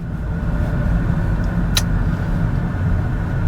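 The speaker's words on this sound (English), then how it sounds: "I'm driving a Golf Mk1 GTI, an amazing condition one," A Volkswagen Golf Mk1 GTI in excellent condition being driven, heard from inside as a steady, low engine and road rumble with one brief high click partway through.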